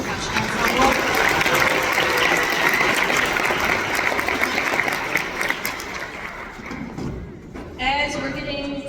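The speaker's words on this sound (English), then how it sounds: "Another round of applause to Percussion Ensemble." A band concert audience gives loud, sustained applause to the percussion ensemble, a dense roar of clapping that tapers off before a voice speaks near the end.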